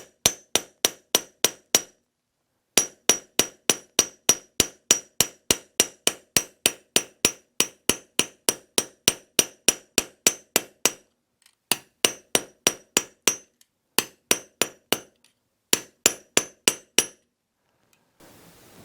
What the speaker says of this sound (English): Here's our bolt. I'm going to simply hammer it down